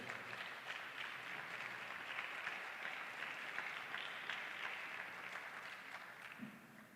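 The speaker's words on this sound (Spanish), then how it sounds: "Un aplauso al Señor, por favor." A church congregation at a worship conference gives a sustained, even round of applause to the Lord, heard alone and somewhat distant as one steady wash of clapping.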